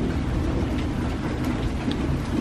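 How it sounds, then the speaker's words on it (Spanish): Heavy rain in a thunderstorm under a tornado alert, a dense, loud, continuous downpour with a low rumbling beneath it and no voices. "solamente que sí hay mucho trueno, mucho relámpago"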